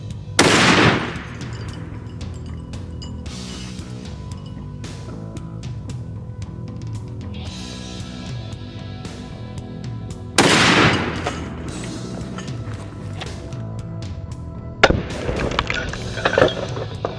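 Three thunderous .50 BMG rifle shots, fired with PMC FMJ, API and Hornady 750 AMAX rounds at a steel target, come roughly five to six seconds apart, each a sharp, very loud blast with a ringing tail and no talking.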